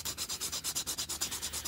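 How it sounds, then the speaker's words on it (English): Sandpaper rubs plastic on the damaged end of an aerosol can in quick, even back-and-forth strokes, about a dozen rhythmic scratchy passes, close and clear with no talk. "just another second of sanding"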